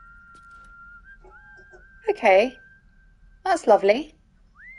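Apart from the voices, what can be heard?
whistled Baldur's Gate 3 theme song from video game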